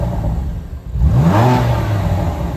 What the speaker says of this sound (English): Let's give her a little rev for you.